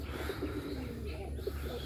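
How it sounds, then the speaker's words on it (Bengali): A Bagha pigeon coos in repeated soft low calls from a loft, close and clear over a steady low background hum. "বাঘা কবুতর দেখুন ডাকতেছে"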